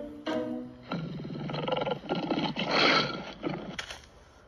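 An African lion gives a long, loud, close roar in several throaty pulses that swell and fade, heard alone without any talk.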